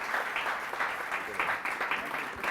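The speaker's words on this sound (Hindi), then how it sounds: "तो बहुत सारी तालियां" Short burst of studio audience applause on a TV morning show, dense steady clapping from a crowd heard clearly and fairly close throughout.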